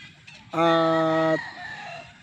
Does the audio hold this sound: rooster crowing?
yes